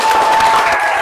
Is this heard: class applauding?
yes